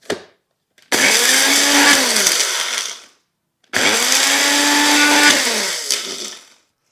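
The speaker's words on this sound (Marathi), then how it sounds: "आता इथे एका मिक्सरच्या भांड्यामध्ये आपण मगाशी जे भाजून घेतलेले मसाले आहेत ना ते असे फिरवून घेऊयात" A mixer grinder coarsely grinds roasted spices for lime pickle in two loud, steady whirring bursts of about two seconds each, separated by a brief silence, the motor pitch dipping as each run winds down.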